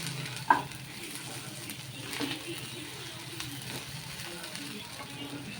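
Okra frying in a pan for a dhaba-style fry, stirred steadily with a soft continuous sizzle and a sharp utensil clink near the start, with faint background noise.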